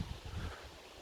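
Quiet, blustery wind buffeting the microphone at a high observation deck at the Peace Dam in Hwacheon, South Korea, with low rumbling gusts, steady and faint, no voices.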